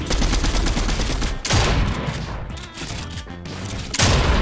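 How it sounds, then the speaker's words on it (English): Fortnite gunfire rattles almost nonstop in dense, loud bursts with brief dips between volleys, layered with in-game impacts and effects. "This gun shreds."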